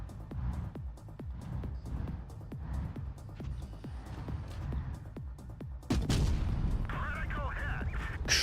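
Sharp, regular gunshots fired in steady succession in a video game, crisp repeated cracks through the first half followed by a louder burst of impact noise, with a voice talking under the shots.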